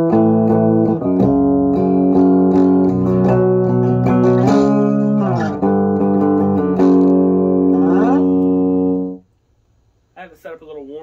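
Clean electric guitar playing sustained chords through an Orange Crush Pro 120 head on the clean channel, treble at 5, bass at 6 or 7, warm and steady, ringing for about nine seconds before stopping, with a brief voice at the end.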